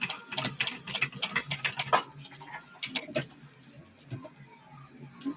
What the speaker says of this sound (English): I just chain stitch by going back onto the other one and top stitching it